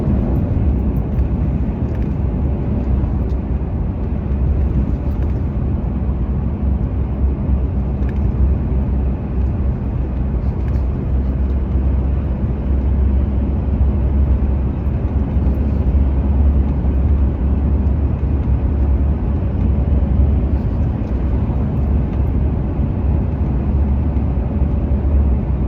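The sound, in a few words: heavy road traffic on a drive to Wanaka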